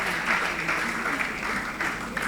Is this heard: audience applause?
yes